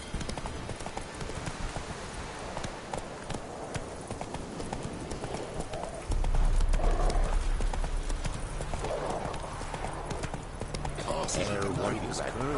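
Roach, Geralt's horse in The Witcher 3 on PS5, gallops with steady rapid hoofbeats and an occasional snort, growing louder halfway through, with game music and effects underneath.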